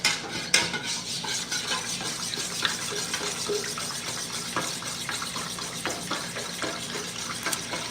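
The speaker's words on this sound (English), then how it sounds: "And now I'm stirring for 2 minutes" Melted wax with added oil is stirred steadily in a container for a squeezable wax melt, giving a continuous scraping, swishing texture with light clinks of the utensil against the sides and no talking.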